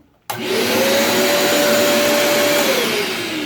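An Electrolux vacuum cleaner switches on abruptly and runs with a loud, steady roaring whine close by, its pitch dipping slightly near the end.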